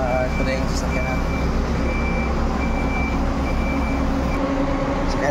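A vehicle reverses into a parking spot amid a noisy street, its regular reversing beeps sounding over engine rumble and traffic, with voices talking nearby.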